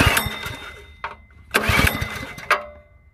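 A Neptune portable water pump's small engine is started with a few separate bursts of pull-start cranking and sputtering rather than a steady run, loud and close with short gaps between attempts.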